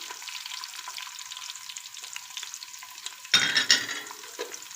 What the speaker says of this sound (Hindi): प्याज को अच्छे से फ्राई करेंगे।